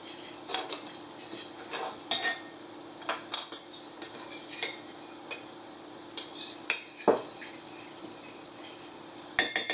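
A spoon scrapes and clinks against a bowl as wet and dry bath bomb ingredients are stirred together, giving irregular knocks and taps close by with no voices.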